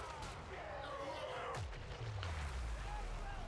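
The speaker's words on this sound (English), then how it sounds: "there goes the Dreadquake Mortar" Dreadquake Mortar firing in Total War Warhammer 3 multiplayer battle: a heavy boom with a falling whistle and rumbling tail, amid dense battle noise and distant clashes.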